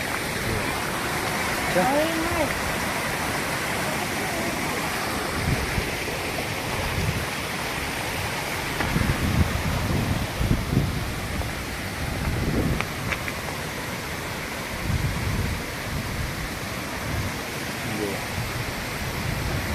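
The Hatni Mata waterfall pours into a deep pit, giving a steady, broad roar of rushing water throughout, with faint bumps and voices in the background.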